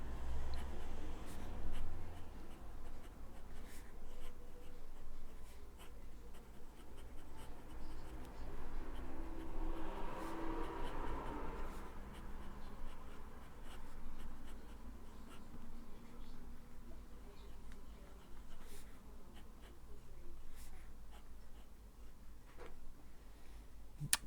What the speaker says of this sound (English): I'm trying to write over the camera.